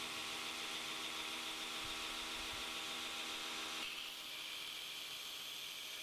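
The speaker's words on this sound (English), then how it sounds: "I can spend a little bit more time at the tip and bring that grind right into that scribed line." A metal knife blank is held flat on a grinder's tilt table and ground toward a scribed line near the tip, giving a steady, loud abrasive hiss that runs throughout, easing slightly near the end.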